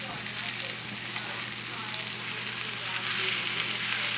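Veal sizzling steadily in a pan of browning butter for Marsala, a dense continuous crackle with no voices.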